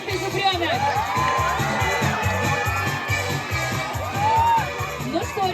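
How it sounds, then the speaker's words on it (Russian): Children clap and cheer loudly at a summer camp campfire gathering, with shouts and whoops over rhythmic music in the background. "Громче аплодисменты, Зубрёнок."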